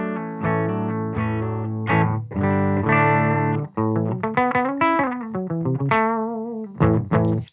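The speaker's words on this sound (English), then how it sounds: "I'm running it into a Silktone amp. Silktone amp sounds like this." A Heritage H535 electric guitar with Righteous Sound pickups plays through a Silktone amp, loud and close: strummed chords and quick single-note runs with a warm, slightly driven tone, no voices over it.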